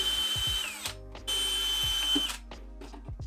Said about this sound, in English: Be careful that your drill bit doesn't go through the front of your drawer face.